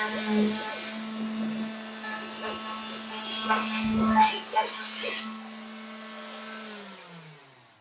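Clogged shop vacuum running, a strained, droning hum that holds steady, then slows and drops in pitch as it winds down at the end, with a few knocks along the way.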